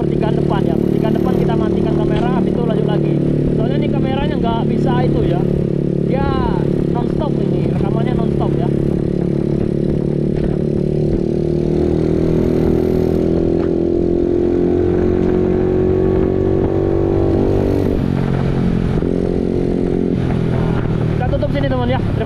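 Motorbike engine revving and accelerating while riding through Bali streets between Padma and Seminyak beaches; a loud, close, continuous engine drone rises and falls with throttle changes, with surrounding traffic and horns mixed in.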